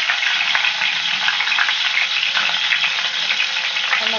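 A whole chicken fries in cola in a pan, giving a loud, constant, dense sizzle that stays unbroken throughout, with no voices.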